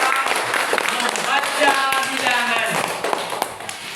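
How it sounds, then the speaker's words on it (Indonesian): A fourth-grade class applauds a classmate in a classroom, with a dense, steady patter of many hands clapping throughout and voices talking over it. "Tepuk tangan untuk Dela."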